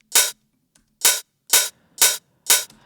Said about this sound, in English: I added an open hi-hat, and it sounds something like this